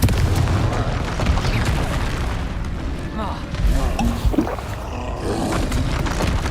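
Spell-blast explosions from the Confringo curse in the Hogwarts Legacy video game roar loudly and continuously, deep booms layered over constant rumbling combat noise.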